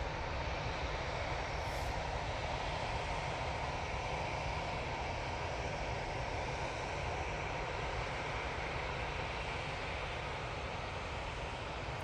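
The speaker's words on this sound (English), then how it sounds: "-8 Dreamliner from Bridgetown now coming in." A Boeing 787-8 Dreamliner arriving at Manchester Airport after a long flight from Bridgetown, its steady broadband engine roar holding at a constant, fairly quiet level throughout with no voices.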